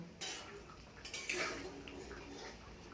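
Mutton curry with spices is stirred in a pan, a spoon scraping and clinking against the metal with soft, wet sloshing in a quiet kitchen.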